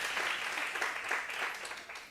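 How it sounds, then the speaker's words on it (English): A conference audience at a women in leadership event claps for the keynote speaker, a short, steady burst of applause heard at a modest distance. "I'll give her that applause"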